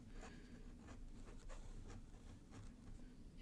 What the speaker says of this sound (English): Definitely feels a little scratchier, this paper, when I'm using the Kakimori nib.